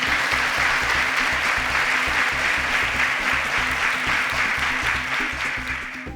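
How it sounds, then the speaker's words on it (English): A studio audience on a Nigerian quiz show applauds a contestant, sustained and dense for about six seconds, over a steady low rhythmic music bed, with no talking. "A round of applause for Damola."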